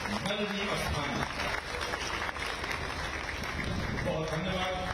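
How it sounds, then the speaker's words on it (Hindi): Loud, steady applause from a large audience at a Padma Shri award ceremony, sustained dense clapping that fills the whole stretch and swells slightly toward the end. "इनके लिए आपको जोरदार तालियां बजानी है"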